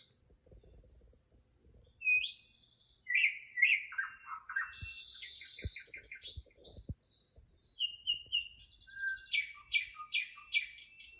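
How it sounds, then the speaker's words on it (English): Birdsong played from a television fills the room, with varied chirps, trills and tweets in quick, irregular bursts and a few soft low knocks beneath, steady and moderately loud throughout. "Wow, look at them pretty birdies."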